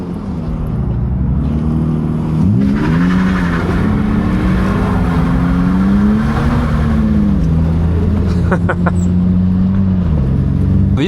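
BMW E46 drifting on a wet road in the rain, the engine loud and close, rising and falling in pitch through repeated revs with a hiss of spray beneath it.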